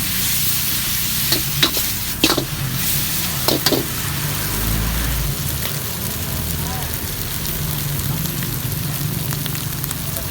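Pork pad see ew with kale is stir-fried in an iron wok over high heat: a loud, continuous sizzle with a few metallic spatula clanks near the start.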